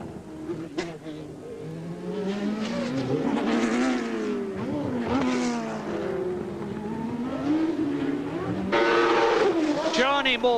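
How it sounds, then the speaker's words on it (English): Formula One cars, including a Lotus leaving the pit lane, run during 1990 Australian Grand Prix practice, their high-pitched engines droning and swelling steadily under continuous commentary. "Johnny Herbert is now coming out of the pit lane in his Lotus"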